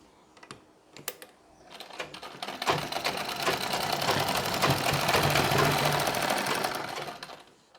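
A sewing machine stitches folded Nauvari saree fabric, starting with a few isolated clicks before settling into a loud, continuous rapid needle clatter that runs steadily and then slows to a stop, with no talking.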